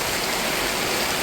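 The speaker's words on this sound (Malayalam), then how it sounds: "ഭയങ്കര മഴ" Heavy rain pours down in a steady, dense wash of loud hiss that fills the whole clip without a break. No voices can be heard.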